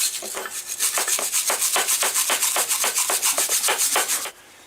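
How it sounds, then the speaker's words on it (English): A wire brush scrubs the wheel hub of a Chevy Blazer during wheel bearing work, clearing the surface where the brake parts sit. About fifteen quick, even, rasping strokes repeat close up before stopping abruptly. "I'm going to run a wire brush through here and clean this up"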